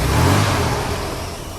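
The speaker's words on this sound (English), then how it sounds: "Can you give it a rev, please?" The engine of a 1959 Mercedes-Benz 220 S Coupe revs hard in a loud, close burst, a dense roar that swells briefly and then slowly eases off.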